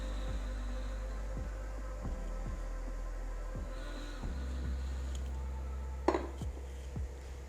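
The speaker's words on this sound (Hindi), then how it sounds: "इसे अच्छे से फेंट लेंगे और कुकिंग ऑयल डाल के ना तवे पे" An egg being whisked in a bowl, with a steady run of light, evenly spaced clinks over a low kitchen hum and no talking.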